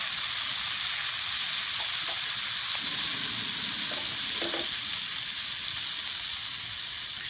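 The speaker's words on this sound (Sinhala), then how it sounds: "මේ විදිහට බටර් ටිකක් රත් වෙන්න තියන්න." Butter heating in a pan, a steady close hissing sizzle throughout, continuous and even with faint light clicks.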